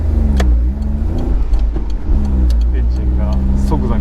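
Small Honda Beat kei car engine blipped from idle, a loud close engine note that rises and falls in quick throttle bursts while someone talks over it.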